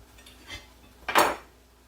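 Peanut butter made from PB2 powder being spread with a spatula, two soft scraping strokes, the second louder and longer, close and alone.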